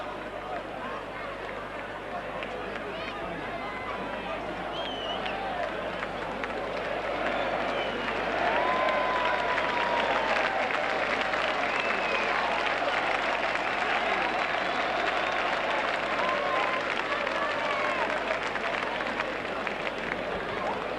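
Rugby league playoff crowd, Wigan against Hull KR, roaring and shouting after a hat-trick try, a dense, distant swell of voices and clapping that grows louder midway and stays sustained.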